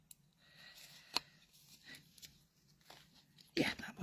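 Scissors snip and paper crinkles faintly as card is trimmed and reshaped for a 12-inch scrapbook layout, a few quiet scattered cuts ending in a louder rustle of handled paper.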